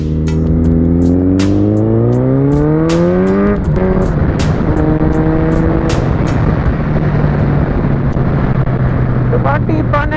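A sport motorcycle engine revs and climbs in pitch, then drones steadily at close range during a Sunday ride, with a voice talking over it now and then.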